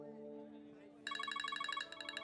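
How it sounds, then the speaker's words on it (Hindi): A telephone's electronic ringtone starts abruptly after a background music bed and trills in rapid repeating pulses, fairly close and clear. "telephone call"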